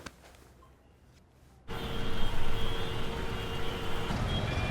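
Late-night city traffic at 11 pm starts faint, then swells abruptly into a dense roar of trucks and cars with steady engine rumble and a high whine.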